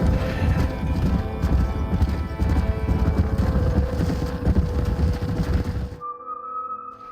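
Horse hooves clip-clop steadily and loudly in Red Dead Redemption, with a whinny mixed into the continuous galloping, before the sound cuts off sharply near the end.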